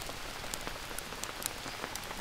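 Rain falls steadily in the jungle game Green Hell, a dense hiss of drops pattering on surfaces with scattered sharper droplet ticks, alone with no talk.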